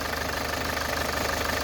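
A car engine idles just after startup with a rattling, knocking noise, a close, steady mechanical clatter with a rhythmic vibration and no talk.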